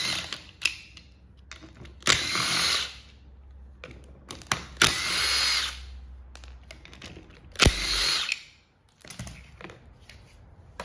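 A power drill removes four 13mm bolts from the back of a Ford Ranger fan. It gives several short, whirring bursts close up, separated by quieter pauses with clicks and handling noise, plus a sharp knock near the end.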